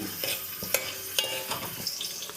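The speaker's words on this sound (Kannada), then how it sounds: "ಈರುಳ್ಳಿ ಎಣ್ಣೆಯಲ್ಲಿ ಸ್ವಲ್ಪ ಫ್ರೈ ಆಗಲಿ." Onion frying in oil while being stirred, giving a close sizzle broken by a few sharp spoon-on-pan taps and scrapes, with no talk.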